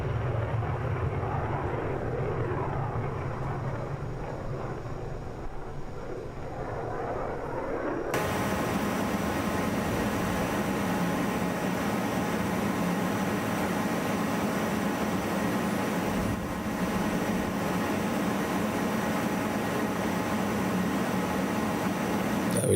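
Steady broadband jet roar of a Just Flight Hawk T1 climbing out in Microsoft Flight Simulator 2024, jumping to a louder, fuller engine hiss partway through and then holding constant.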